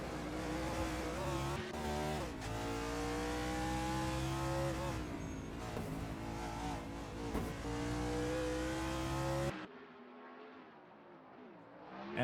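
Race cars lapping Road America in a racing video game drone with loud, steady engine tones that climb and shift through gears, then cut off abruptly near the end.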